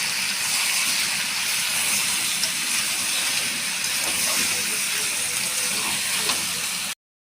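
Steady loud hissing sizzle as water hits a hot pan of spiced fish curry base with turmeric, cumin and chili powder, continuous for about seven seconds before cutting off abruptly.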